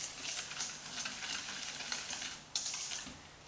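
A whisk stirs melted block butter and sugar in a bowl for cookie dough, giving a steady, close scratchy swishing with quick repeated strokes and a brief clatter near the end.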